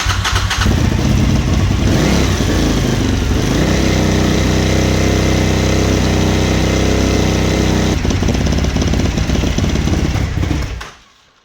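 A neglected Suzuki TL1000R motorcycle engine runs loudly and close by with a slightly knocky sound, holding a rough, throbbing idle with a brief rev change before it cuts off abruptly at the end.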